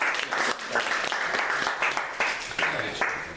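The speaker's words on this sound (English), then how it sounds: "give a warm round of applause to Sam Fisher" Attendees at a Brooklyn Tea Party meeting give guest speaker Sam Fisher a warm round of applause, a fairly close crowd clapping in a loose, pulsing rhythm throughout.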